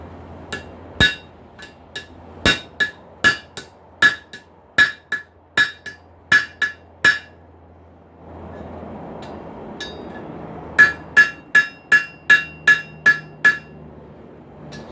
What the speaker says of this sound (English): I'm going to try to flatten that thumb section out over the tail of the anvil